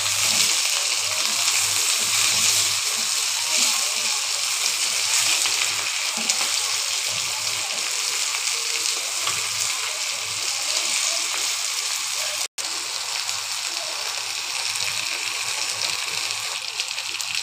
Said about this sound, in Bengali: মাছগুলো আমি মোটামুটি ভাজি করে নেব,